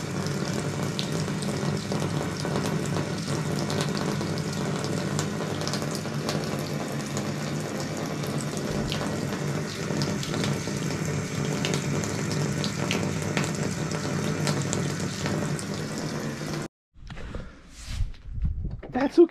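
A kitchen tap runs in a steady, loud stream for most of the stretch, then cuts off abruptly, leaving quieter bumps and a cat drinking nearby while a person talks.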